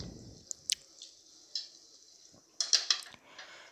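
A lid goes onto a pan of fish eggs cooking on the stove, with a few sharp metallic clinks and a louder cluster of clattering knocks near the end, close and fairly quiet.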